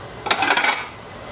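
A fried egg slid from a frying pan onto a plate, giving a brief cluster of light metal-and-ceramic scrapes and clinks that last under a second, close up and with no talk.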